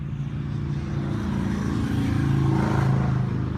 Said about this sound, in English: I know you heard the bike.